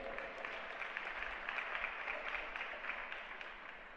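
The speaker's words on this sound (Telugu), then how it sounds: "చప్పట్లు కొట్టి దేవుని స్తుతించండి" A church congregation claps in praise during a sermon, a dense, even patter of many hands sustained for about four seconds, fairly faint and distant-sounding with no voices on top.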